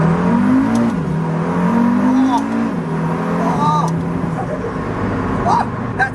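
A KTM X-Bow GT-XR street-legal race car accelerates on a small road, its engine note rising and falling through revs, loud and close, while someone talks over it.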